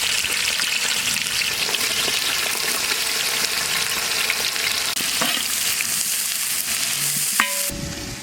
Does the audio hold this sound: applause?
no